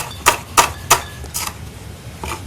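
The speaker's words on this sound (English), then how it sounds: "So I cut my shallot in half" A kitchen knife cuts through a shallot on a cutting board into strips, several crisp evenly spaced chops up close followed by a couple of softer ones, with no talking.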